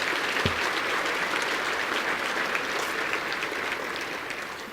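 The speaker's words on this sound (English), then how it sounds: "Please join me with a round of applause for all of our sponsors." A round of applause at an innovation awards ceremony honoring the event sponsors, broad, even clapping from a sizable crowd that fades slightly toward the end.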